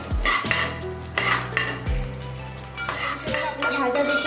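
Vegetables fry in butter in a pan for ginger garlic soup, with loud sizzling and repeated scraping and stirring knocks of a utensil against the pan, close up.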